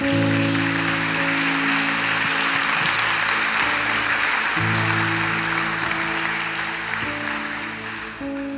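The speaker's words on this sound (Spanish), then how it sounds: "Le damos un aplauso al Señor por eso." A church congregation applauds during a sermon. Dense, sustained clapping fills the clip at steady loudness, with a sustained musical tone from a keyboard or organ playing under it, and the applause fades slightly toward the end.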